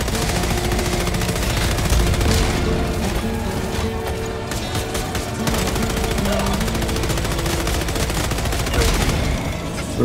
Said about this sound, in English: Oh crap, you just shot me!